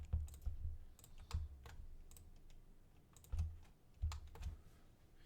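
Computer keyboard keys are pressed in short, scattered clusters for Blender modifier shortcuts, with crisp close clicks separated by quiet gaps.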